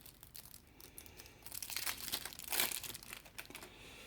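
Board game cards being unwrapped from their plastic wrap, a close, quiet crinkling and tearing that swells in the middle and then settles.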